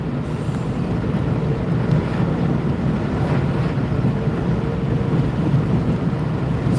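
A car drives along the road with steady, loud low rumble and buffeting wind noise, continuous and unbroken throughout.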